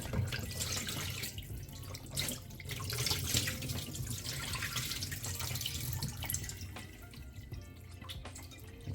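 Water trickles and drips steadily into a sink as it drains from raw chicken, a continuous close splashing with scattered droplets, no voices.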